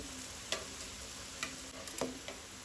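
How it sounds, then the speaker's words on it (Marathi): Kothimbir vadi, Goan coriander fritters, shallow-frying in hot oil, giving a faint steady sizzle with a few soft ticks and pops, no voices. "अशी करून दोन्ही वाटल्यान बरी भाजून घेवपाक जाय, तळून घेवपाक जाय"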